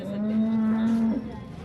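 One long, low cow moo at the Modnimb cattle market holds steady for about a second, then breaks off, leaving faint background noise.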